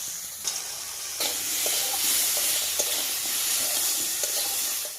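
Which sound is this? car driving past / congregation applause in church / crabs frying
crabs frying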